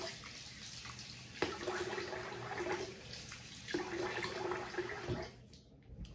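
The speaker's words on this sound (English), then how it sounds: "I'm going to rinse the face here" Water splashes and runs in a steady wash while the face is rinsed at a sink after a double-edge shave, with several distinct bursts of splashing before the flow fades near the end.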